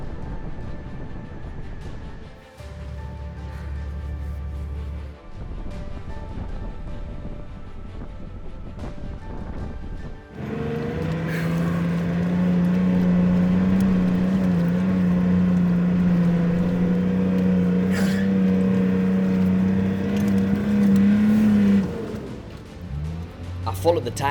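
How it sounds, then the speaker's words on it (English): A 4WD car crawls through deep snow on a snowy mountain pass, its engine droning steadily and then rising into a louder, strained revving hum, with wind buffeting and a voice talking over it. "I followed the tyre tracks that the Montero had made, but the deep snow quickly killed my momentum."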